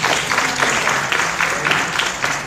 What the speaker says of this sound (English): Clap for the firm once more.